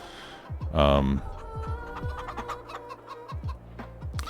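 Chickens cluck and squawk in a coop in the Farming Simulator 22 video game, a series of short clucks in irregular bursts with one louder squawk early on.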